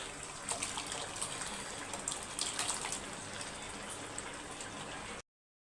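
Water pours into a cooking pot in a steady, soft splashing stream for several seconds, faint and close, before stopping abruptly.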